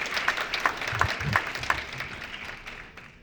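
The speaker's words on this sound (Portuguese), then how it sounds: "Salva de palmas para o Kenner, pessoal." Applause from a church lecture audience welcoming the speaker Kenner, a moderate patter of hands that thins out and fades toward the end, with no talk over it.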